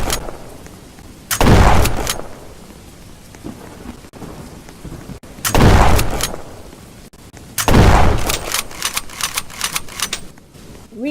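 Gunfire from a first-person shooter video game comes in three loud clusters of rapid, crackling shots, separated by quieter stretches, with no one talking.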